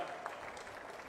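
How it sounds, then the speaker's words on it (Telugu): An audience at a live government event with Chief Minister Chandrababu applauds, a soft, even wash of clapping at moderate distance with no voices over it. "వాళ్ళని గట్టిగా చప్పట్లు కొట్టి అభినందించండి"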